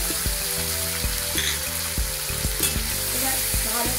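Torn green chillies fry in hot oil in a karai (wok), a constant hiss punctuated by regular clacking scrapes of a spatula stirring, close and loud with no talk.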